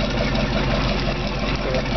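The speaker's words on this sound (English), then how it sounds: "So the motor sounds great." A 232 Captiva boat with a sterndrive idling, its motor running steadily with a low, even rumble and no talk.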